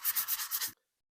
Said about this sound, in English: just continue sanding away